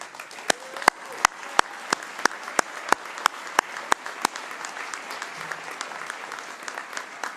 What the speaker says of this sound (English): So I think Chris Norton and Alicia Williams need a big round of applause.